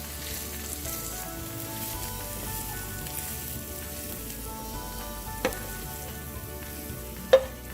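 Spicy pork with green beans, onions and cilantro sizzling and being stirred in a pan, a steady soft frying crackle with a couple of sharp utensil clinks near the end.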